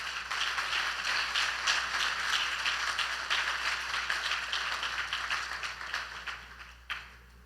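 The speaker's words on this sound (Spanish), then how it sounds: "denle un aplauso al Señor" A church congregation applauds during a live service, a dense, steady wash of many hands clapping at close range that holds for several seconds before tapering off near the end.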